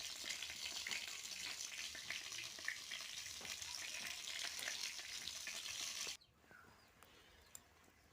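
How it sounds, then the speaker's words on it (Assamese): Brinjal (eggplant) frying in oil in a pan, a steady close sizzle and crackle that runs on evenly, then drops abruptly to a much quieter hiss near the end. "মাছখিনি ফ্ৰাই কৰি লোৱাৰ পিছত বেঙেনা ফ্ৰাই কৰি ল'লোঁ।"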